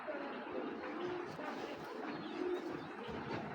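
A racing pigeon cooing nearby, soft repeated low coos over a murmur of background room noise and faint voices.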